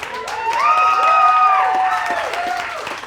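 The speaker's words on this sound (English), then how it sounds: "It's a sparse applause for that." Sparse audience applause and cheers at a live comedy podcast taping in Austin, Texas, a moderate crowd of clapping with whoops and shouted voices that swells and then tapers off.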